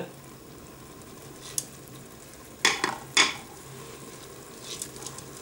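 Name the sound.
stirring mushroom risotto in a Cookeo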